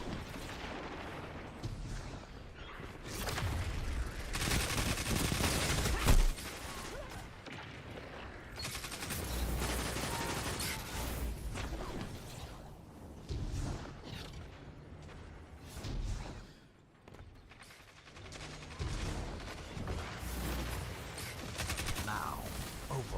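Auto rifle gunfire in the shooter game Destiny, dense sustained bursts of firing with heavy booming impacts, loud and continuous with one short lull.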